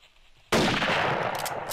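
Gunfire in a deer hunting game set out West: a sudden loud blast after a quiet start, followed by a sustained roaring echo with a few faint crackles near the end.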